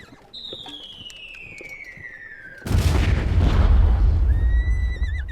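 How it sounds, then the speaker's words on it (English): A shell screams in with a long, steadily falling whine, then bursts into a loud, rumbling explosion along a poplar-lined road during a World War I battle on the Marne, with the roar lingering for several seconds. "Suddenly there is a loud whine and a thunderous explosion along the road."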